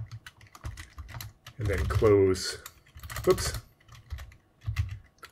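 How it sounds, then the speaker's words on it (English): Light key clicks from a Commodore 8-bit computer keyboard come in short bursts, fairly quiet and close, with someone talking briefly over the typing. "So that's a lot of typing."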